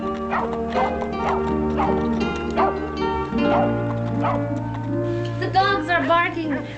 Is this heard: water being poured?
no